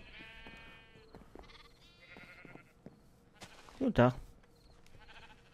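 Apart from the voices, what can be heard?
sheep bleating in video game Minecraft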